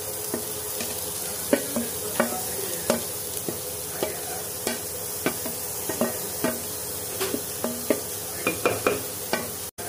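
Carrots and onion fry in a little oil in a pan, a constant sizzle broken by repeated sharp scrapes and clacks of a spoon stirring at an uneven rhythm, close and fairly loud.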